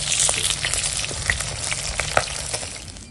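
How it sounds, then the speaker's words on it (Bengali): Pona fish (carp) sizzles hard in hot oil at close range, a continuous hiss with scattered sharp pops and spatters as pieces are lifted out; no voices. "যেগুলো ভাজা হয়ে যাচ্ছে দেখো তুলে দিচ্ছি।"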